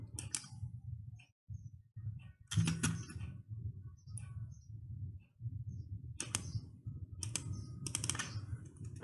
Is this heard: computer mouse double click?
yes